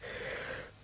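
A cartoon character's drawn-out yawn in a children's animated story, a single breathy, wheezing exhale that swells and then fades over under a second, fairly quiet and alone.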